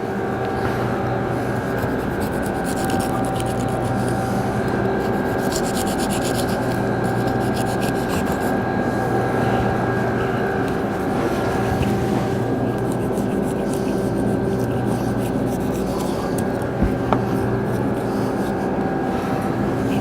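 A knife pares the rough skin off a whole pineapple, producing a continuous close rasping scrape with repeated strokes over a steady background hum.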